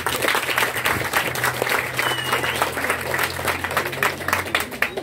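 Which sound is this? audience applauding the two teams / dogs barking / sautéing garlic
audience applauding the two teams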